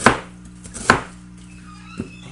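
A knife chops through pork on a cutting board while it is cut into long strips for pork satay, three sharp, distinct strokes with pauses between them and no talking.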